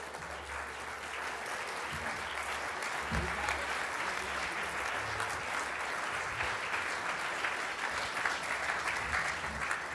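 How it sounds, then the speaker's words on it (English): A big crowd claps continuously for a special guest at a speaking event, a thick, unbroken roar of applause at steady volume throughout, with faint crowd murmur underneath. "Can we just give another round of applause to our special guest?"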